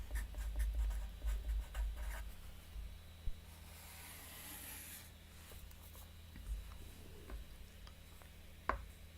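Pen scratching across paper while a rough draft is written out by hand, soft close strokes in short bursts with brief pauses and a faint background hum.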